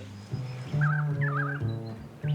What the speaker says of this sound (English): Cape Barren's famous for its wildfowl, the big Cape Barren geese.